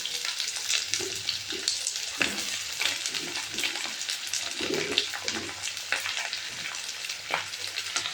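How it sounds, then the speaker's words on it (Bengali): Elephant foot yam and potato pieces frying with onion and garam masala, a dense continuous sizzle with intermittent stirring scrapes and bubbling, close and fairly loud throughout. "ওল আর আলুগুলোকে দিয়ে আমি বেশ কিছুক্ষণ ধরে পেঁয়াজ গরম মশলার সাথে ভেজে নেব।"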